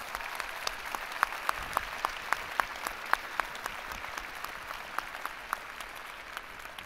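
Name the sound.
applause at commencement ceremony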